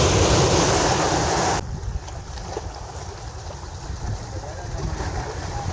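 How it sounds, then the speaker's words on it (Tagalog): Heavy surf roars continuously at Baseco in Manila, with strong wind buffeting the microphone, loud and unbroken throughout. "lakas ang alon no grabe mamaya mas malakas pa yan kapag high tide na"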